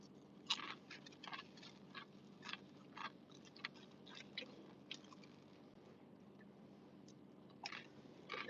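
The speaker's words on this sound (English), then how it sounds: "There's a moment of silence just because I'm chewing." A person chews crunchy food close to the mic during a quiet pause outdoors in a nor'easter, with a series of crisp bites and crunches scattered over several seconds above a low steady rumble.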